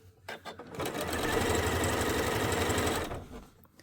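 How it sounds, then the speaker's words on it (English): A sewing machine stitches through quilt blocks on a heavy quilt, running steadily for about two seconds after a few short bursts, close and clear with no talking. "let me just do a few more stitches"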